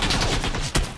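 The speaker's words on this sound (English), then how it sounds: "someone's shooting at me." Gunfire in the video game PUBG (PlayerUnknown's Battlegrounds): a short burst of rapid shots, with one sharp, louder crack near the end.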